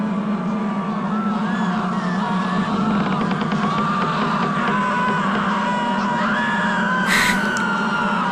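In the Scream Room of the Eternal Darkness video game, a continuous wall of overlapping yells and screams drones on steadily, dense and loud, with a brief sharp burst near the end.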